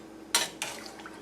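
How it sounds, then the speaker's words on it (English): Corn chowder stirred in a pot, two quick scraping swishes of a utensil against the pot, close and brief, then a faint tail. "let me just stir that a little bit"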